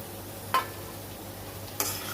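Two short sharp sizzles as shendvel leafy greens go into hot oil in a pan, over a quiet low hum.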